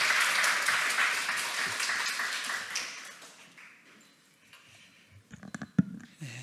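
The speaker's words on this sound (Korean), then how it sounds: "우리 나오실 때 큰 박수로 환영하겠습니다" A church congregation claps in welcome as a preacher comes forward, steady applause that fades out over a few seconds, followed by a quiet room with scattered taps and thumps.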